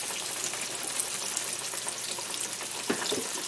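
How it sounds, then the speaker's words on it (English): Pork chop gravy sauce simmering and sizzling in a pan while being stirred, a steady close bubbling hiss with a few soft scraping clinks near the end. "continue to stir until our sauce thickens, our gravy"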